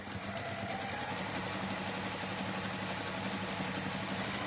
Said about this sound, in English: again we're sewing towards the fold